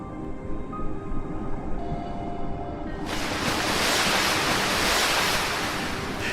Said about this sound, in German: berghohen Wellen und starken Strömungen, die jedes verirrte Lebewesen mitreißen können.